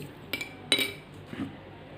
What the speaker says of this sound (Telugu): ఉప్పు మొత్తం కరిగే వరకు కలపండి